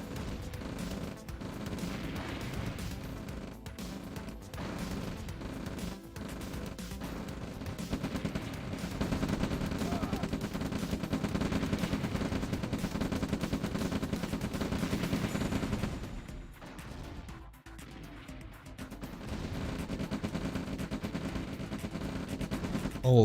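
A gunboat fires in the video game Red Alert. Rapid, dense volleys of gunfire rattle continuously over a busy battle mix for about fifteen seconds, then briefly thin out before the fighting noise resumes.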